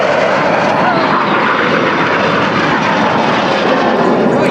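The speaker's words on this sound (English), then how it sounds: "There's a lone jet." Red Arrows jet roaring past at the Malta Airshow, a loud, steady broadband rush of engine noise filling the whole few seconds without a break.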